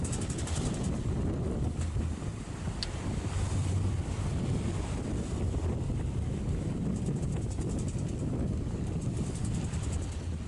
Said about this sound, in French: Ambiance de nuit sur le pont arrière.